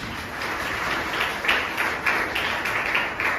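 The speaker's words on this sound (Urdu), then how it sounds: "زوردار تالیاں ہو جائیں" Congregation applause at a church service, steady rhythmic clapping from many people, moderately loud and continuous with pulsing beats.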